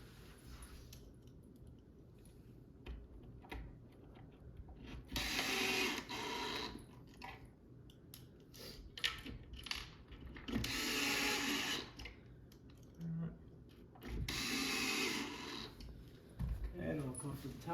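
A power driver running screws into the shelf of a wooden farmhouse shoe bench, three loud whirring bursts separated by quieter stretches of handling and clicks.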